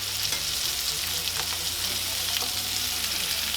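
Salmon fillet sizzles steadily in a hot pan just after flipping, a close, continuous crackling fry with no talk over it.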